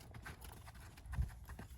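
Horse hooves trotting in a steady clip-clop rhythm under a rider posting in the saddle, close and moderately loud with a low thud on each footfall.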